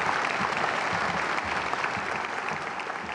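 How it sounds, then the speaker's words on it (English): Graduation audience at a high school ceremony applauding steadily, a dense, sustained wash of many hands clapping at a distance throughout, with no voices standing out. "Let's give them a round of applause."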